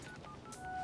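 A telephone is dialed, giving a brief run of faint, thin electronic tones over a low background hiss.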